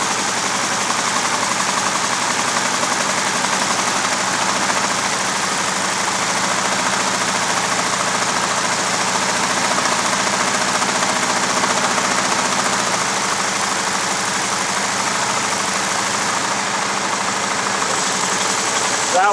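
A LEGO i4 engine model spinning on a dyno at maximum RPM, giving off a steady, dense mechanical whir and rattle that holds constant and close throughout.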